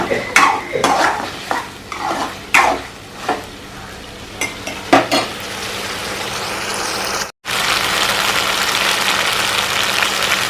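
Ginger paste frying in a pan while a spoon stirs and scrapes, irregular clinks and knocks for the first several seconds, then a steady broad sizzle-like hiss after a brief gap; no talking.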